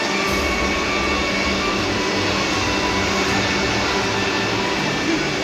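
A steady, loud rumble of a Vande Bharat Express train running from Jammu Tawi to Srinagar, with constant low mechanical drone and wheel noise throughout, no voices.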